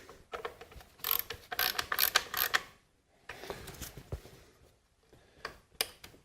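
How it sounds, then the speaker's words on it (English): Ratchet snugging down ignition coil bolts on a Dodge Chrysler Plymouth 2.7L engine, heard as quick bursts of close, faint clicking with short pauses between strokes. "I'll use a ratchet to snug them down, get the coil locked down into place."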